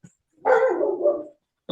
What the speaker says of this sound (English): Oh, my dogs are barking.